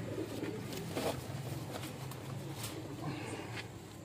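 A pigeon coos softly in repeated low calls over a steady background murmur, with occasional faint clicks and no clear speech.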